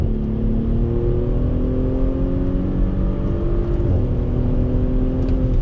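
A 2020 Audi SQ5 with an 8-speed gearbox accelerates hard in second gear, a steady loud engine drone rising in pitch with a brief dip near the end, heard from inside the cabin.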